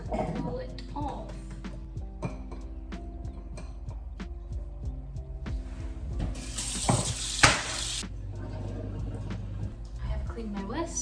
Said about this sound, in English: Clean my whisk.